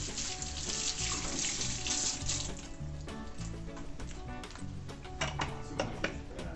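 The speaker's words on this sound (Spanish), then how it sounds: "nos lavamos las manos." Hands being washed under a running kitchen tap while cooking Argentine beef milanesas, a steady rushing hiss of water with small splashes and clicks throughout, fairly close.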